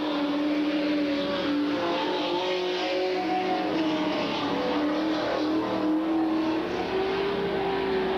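Late model Super Stock race cars racing on a track during an 8-lap qualifying event in 1993, engines roaring and droning steadily as the pack runs at speed, loud and continuous.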